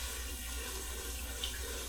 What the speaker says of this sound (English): Now we're gonna add our water.